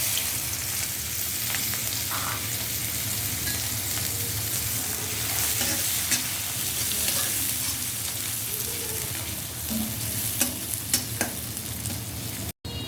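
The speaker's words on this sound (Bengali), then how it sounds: "তেল ভালো করে গরম করে পেঁয়াজ কুচি দিয়ে দেবো" Steady, close sizzling of chopped onions frying in hot oil, a continuous crackling hiss with a few soft utensil clicks near the end.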